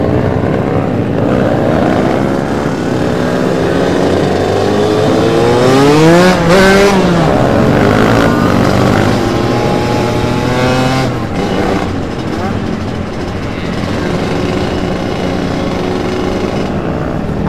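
A Yamaha RX-King two-stroke motorcycle engine revs up and down loudly and close by on a night ride, pitch sweeping high around the middle, with a steady idle rumble throughout.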